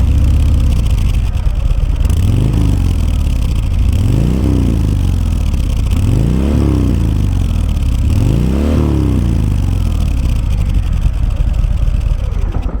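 A 2022 Harley-Davidson Sport Glide motorcycle with a 2-into-1 exhaust runs loud and close, its V-twin engine rumbling steadily with four rising revs spaced a couple of seconds apart, and no talk.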